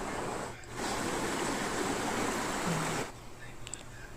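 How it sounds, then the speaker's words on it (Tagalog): A clear stream, or sapa, flowing in Katipunan, Silago, Southern Leyte, gives a steady broadband rush that dips briefly near the start and drops away near the end, leaving quieter ambience. "So maon ni ang beauty sa tubig or sapa sa Katipunan guys"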